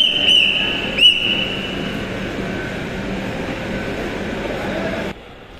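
A metro train at the Dhaka University station platform rumbles steadily, with two bright chime tones near the start, and the sound drops away abruptly just before the end.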